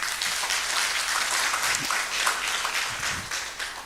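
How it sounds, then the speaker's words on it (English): Audience applause for a Chancellor at an innovation and industry summit, a steady wash of clapping from a large crowd that runs throughout and tapers slightly toward the end. "Ladies and gentlemen, can we give our Chancellor a hearty round of applause?"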